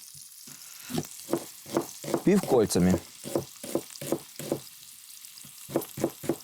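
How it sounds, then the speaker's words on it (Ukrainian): Close, crackling sizzle of pork belly frying in a pan, with sharp pops and stirring scrapes; a person speaks briefly in the middle. "Почерьовка вижарюється."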